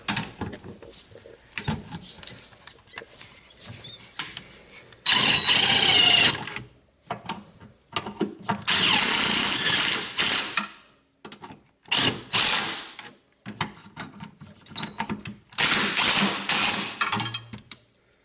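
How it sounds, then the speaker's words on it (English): Ratchet tightening a Hotchkis rear sway bar bracket to the frame of an SRT4, heard as bursts of rapid clicking separated by short pauses, fairly close. "Now we're going to tighten up the actual sway bar bracket to the frame."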